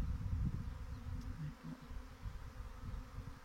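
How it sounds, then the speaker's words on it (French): A swarm of honeybees flies around the hive, a continuous low, dense buzzing drone with individual bees passing close and fading, faint and steady with no talking. "on voit toutes les abeilles qui volent quand on regarde le ciel"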